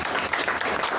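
A brief burst of steady audience applause at an emotional-healing talk, close and continuous clapping from a crowd for about a second.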